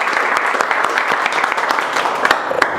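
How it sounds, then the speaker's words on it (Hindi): A classroom full of students claps loudly and fast, a dense, continuous burst of hand claps close by with scattered sharper hits, no talk. "हम एक बार शुरुआत करेंगे जोरदार ताली से।"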